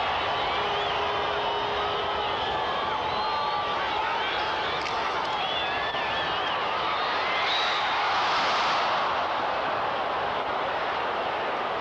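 A crowd at a 1982 Seattle Seahawks at Denver Broncos football game roars steadily at a distant stadium, a broad wash of noise that swells near the end. Faint announcer talk sits underneath.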